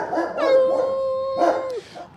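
Dogs at an SPCA shelter adoption area howl close by, two long wavering howls with a short break between them, loud and clear over faint background noise.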